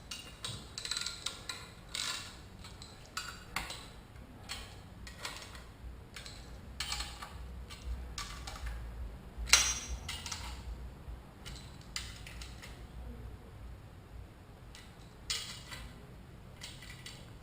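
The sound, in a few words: tightening diff brace bolts with a wrench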